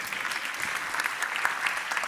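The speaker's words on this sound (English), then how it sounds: "we will applaud Alberto as well" A conference audience gives a short burst of steady applause, fairly quiet and a little distant, lasting about two seconds with no talking over it.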